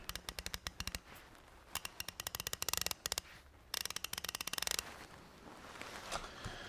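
Brand-new ICON G2 1/2-inch ratchet clicking in rapid bursts of sharp, evenly spaced ticks, with short pauses between runs, close and crisp before fading into quiet room tone.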